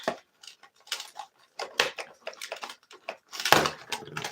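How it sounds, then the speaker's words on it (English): A knife slices open a package in a string of short, close scratchy cuts and tearing scrapes, ending in a sharper rip, with no talking. "Just gonna cut this open real quick."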